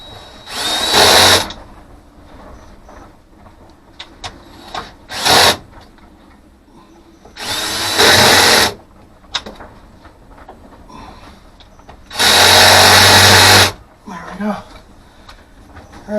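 Power drill with a magnetic 7/16 adapter driving a bolt for a boat's solar arch mount, several loud close bursts of whirring between pauses, with a person talking in the gaps.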